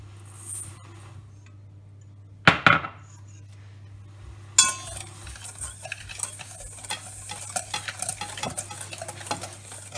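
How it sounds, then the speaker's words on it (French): Egg yolks and sugar are beaten in a bowl for chocolate muffins: after a quiet start and a couple of sharp knocks, a fast, rapid ticking of a whisk against the bowl runs on steadily and close by. "Fouette les jaunes avec le sucre jusqu'à obtenir une pâte qui est un peu blanche ou claire et mousseuse"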